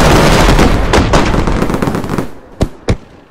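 Loud consumer fireworks of the "Cody Booms" type go off in a rapid crackling barrage of close bangs, then thin out into two final sharp pops.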